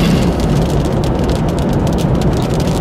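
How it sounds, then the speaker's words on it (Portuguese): Light rain patters steadily outdoors, a loud, dense crackling hiss close by with no letup across the short stretch. "E agora a chuvinha tá chegando."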